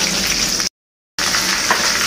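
Fish and tofu frying in a nonstick teflon pan, a loud steady hiss and crackle of hot oil that briefly drops to silence before resuming.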